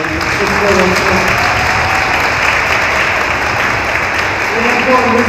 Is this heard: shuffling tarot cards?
no